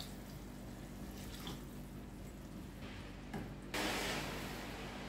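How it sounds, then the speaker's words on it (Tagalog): Water from a glass pours into a pot of soaked rice, a soft steady gush that rises near the end over a quiet kitchen background. "maglagay tayo ng 1 baso na tubig"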